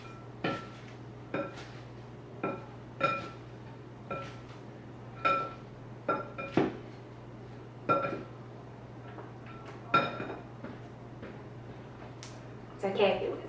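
Sweet potatoes being stirred in a bowl with olive oil and salt, giving a dozen or so scattered sharp clinks and knocks of utensil against bowl over a steady low hum.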